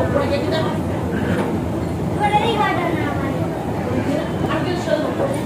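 A train sits at a railway station on a cold night, its rumble and rail noise running steadily under nearby talk and the chatter of a crowd.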